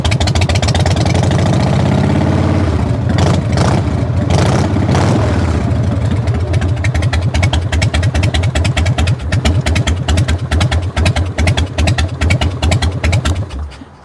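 A motorcycle engine at a salvage auction runs loud and close with a sticky throttle, surging and revving at first, then settling into a steady pulsing idle before winding down as it shuts off.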